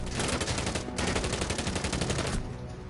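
Rapid automatic gunfire in a competitive bomb-mode shooter game match, shots punched through a wall, a dense sustained burst of loud cracks that briefly pauses, resumes, then tapers off.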